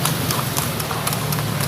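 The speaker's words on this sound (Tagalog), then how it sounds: "Ana gaagi ang mga kabayo." Horses pull a tartanilya carriage along Badilis Street in Iligan City, their hooves clip-clopping in a steady, even rhythm at moderate distance over constant street noise.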